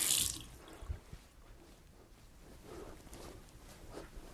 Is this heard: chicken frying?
no